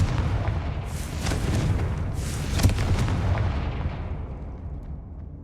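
A Confringo fire spell in Hogwarts Legacy goes off as a loud, rumbling blast with a sharp crack near the middle, then a long booming tail that slowly fades over several seconds.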